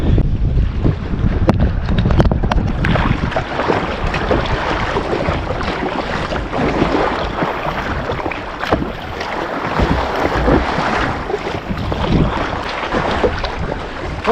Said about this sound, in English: I'm going to head east in the direction I would be paddling and see how that feels as opposed to paddling directly into the wind.